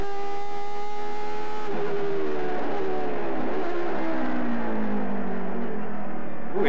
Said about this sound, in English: Great sounding V10 engine